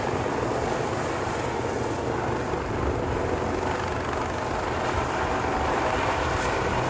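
Steady, loud Malaysia Coast Guard helicopter rotor and engine roar, continuous and close, with no voices, at the LIMA 2023 show in Langkawi.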